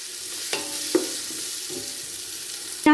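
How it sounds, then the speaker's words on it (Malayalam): Masala spices for chicken biryani sautéing in a pan, a steady broadband sizzle with a few brief clinks and scrapes of stirring and a louder clatter at the end. "മസാലയെല്ലാം ഞാനൊന്ന് വഴറ്റിയെടുത്തിട്ടുണ്ട്"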